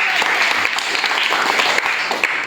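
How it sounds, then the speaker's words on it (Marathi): Sustained applause from a school audience at a quiz programme, steady clapping throughout for a contestant, with a faint voice in the background. "आदित्यसाठी सगळ्यांनी टाळ्या"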